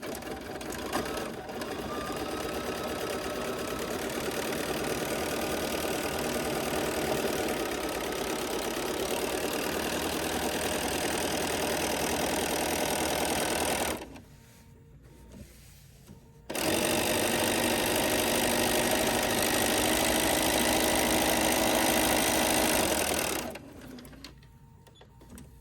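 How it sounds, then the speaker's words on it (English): A sewing machine stitches a quilted tote bag in steady, rapid whirring runs, stopping briefly partway through and again near the end, with no talking. "Just start sewing."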